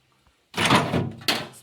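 A dirty refrigerator drawer is handled during cleaning, giving a sliding plastic thunk followed by a second sharp knock, loud and close, with no talk.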